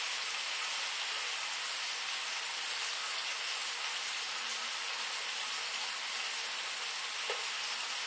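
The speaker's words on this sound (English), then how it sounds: "Then I'll add these scallops, start cooking those" Scallops and onions sizzle steadily in a hot pan, a dense, even frying crackle running throughout with a faint tap of a utensil near the end; no voices.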